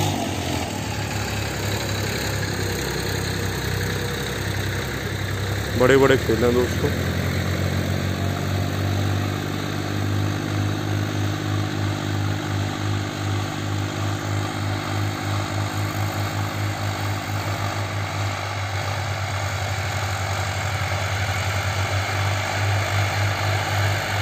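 A steady, droning tractor engine under load, wheels slipping, hums at a constant low pitch throughout, loud and close, with a brief knock and a few spoken words early on.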